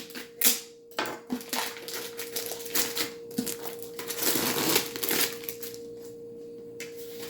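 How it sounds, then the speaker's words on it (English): Plastic wrapping peeled and crinkled off a new Cricut Joy cutting machine, a run of close, dry crackles and rustles that swell into a denser crinkling burst before tapering off, with no talking. "so we can take the plastic off."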